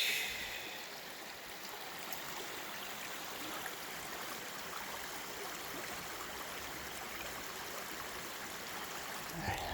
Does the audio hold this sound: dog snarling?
no